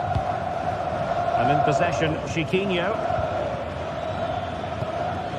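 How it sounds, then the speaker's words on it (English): A stadium crowd in a football video game roars steadily in the background throughout, a constant wash of cheering under a commentator's voice. "Well, just listen to this crowd."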